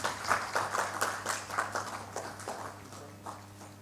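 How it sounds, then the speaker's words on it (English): Applause at an awareness conference on heart care as a doctor is invited forward; sparse, fairly faint clapping from a modest audience with distinct individual claps, thinning out toward the end, and no talk over it. "Kindly keep the applause going."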